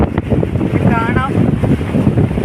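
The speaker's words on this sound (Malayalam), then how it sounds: "തിര നന്നായിട്ട് വന്ന് അടിക്കുന്നത്" Surf rolls in and breaks on a Goa beach under gusty wind after rain, a loud churning rush buffeting the microphone, with a voice briefly audible over it.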